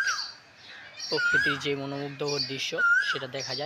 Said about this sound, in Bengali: কোকিলের ডাক শুনতে পাচ্ছেন